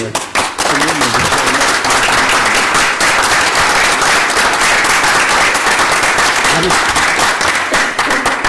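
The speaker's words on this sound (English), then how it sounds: "we'd love to give you a round of applause" Loud, sustained applause from a large crowd at a Hickory City Council meeting fills the space, with a few voices and cheers rising faintly beneath the steady clapping.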